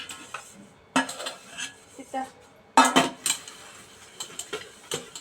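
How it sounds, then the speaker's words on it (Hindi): Dishes being washed by hand at a home kitchen sink: scattered clinks and clatters of cutlery and pots, sharp bursts separated by quieter gaps, fairly close. "मैं अभी धो रही हूँ बर्तन"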